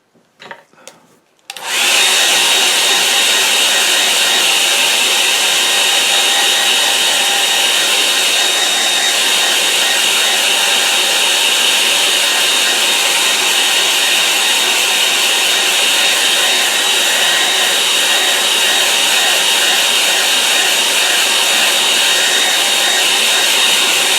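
A hair dryer runs on a watercolour painting of a sky over an estuary. After a brief quiet handling moment it switches on and blows loud and steady for over twenty seconds, with a constant airy whine and no talking.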